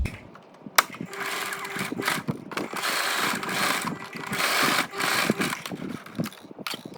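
A sewing machine runs in short bursts, stitching a few times across a folded vinyl tent cover piece made for a rooftop tent, with a mechanical whir and knocks, loud and close.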